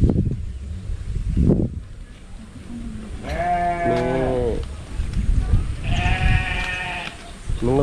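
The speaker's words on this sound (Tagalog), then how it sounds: "Mga breeding pala itong kambing na ito." Breeding goats bleat on a farm in Lopez, Quezon, with two long, wavering calls close by, one in the middle and one near the end, over low rustling and handling noise.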